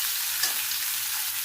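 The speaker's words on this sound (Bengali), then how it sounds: "এই আলু ভাজাটা এরকমভাবে ভাজলে পরে তার মধ্যে একটা আলাদা ফ্লেভার আছে" Cut boiled potatoes fry in a pan with a steady, close, even sizzle and hiss throughout, no voices.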